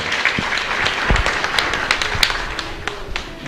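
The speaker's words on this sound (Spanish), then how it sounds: "Fuerte aplauso para cada uno de nosotros" A chapel congregation at mass for the old image of Saint Anthony of Padua claps together, a lively, fairly loud patter of many hands with distinct sharp claps and taps standing out nearby.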